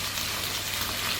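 Broccoli going into a pan of cooking spaghetti, a brief steady bubbling sizzle, close and continuous with no talking.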